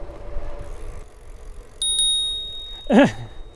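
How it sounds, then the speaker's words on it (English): A bicycle bell on a Ride1Up Roadster V2 e-bike gives two quick bright dings close by outdoors over low road and wind noise, followed by a brief vocal sound. "I just feel like ringing the bell. It's fun. See? Ding, ding, ding."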